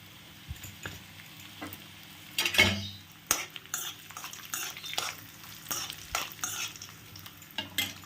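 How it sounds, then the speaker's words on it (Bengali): Cashews and raisins fry lightly in a pan with soft sizzling, punctuated by repeated scrapes and clinks of a spatula stirring against the metal. "দিয়ে দেবো এর মধ্যে কাজু আর কিশমিশ, জাস্ট হালকা হালকা ভেজে নেব"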